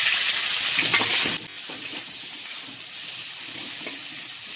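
Sliced onions fry in a pan, with a brighter burst of sizzling at first that settles into a softer, even crackle and hiss.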